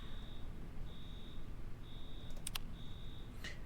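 An electronic alarm in the video game Infra emits evenly spaced high beeps, four of them, with faint clicks near the end over a low background hum.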